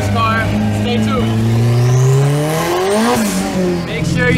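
A car with a newly fitted exhaust revs loudly up and down, its engine note rising and falling in long sweeping pulls, close and dominant, with a voice talking over it.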